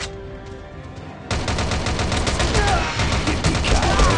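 Rapid gunfire from the shooter video game Rival Fire, dense bursts of shots that suddenly kick in after a quieter opening and keep rattling loudly to the end, with a voice faintly present.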